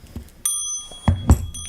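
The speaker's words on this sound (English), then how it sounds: "whoops, that's the bell." The bell of a visible-escapement clock rings during disassembly, giving bright ringing strikes with sustained metallic tones at about half a second and again around 1.1 and 1.3 seconds, close and loud amid handling noises.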